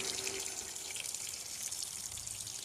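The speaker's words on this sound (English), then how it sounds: "I'm gonna cut this water off real quick." Steady rush of water running from a tap, continuous broadband splashing without pause, fairly loud and close, with no voices.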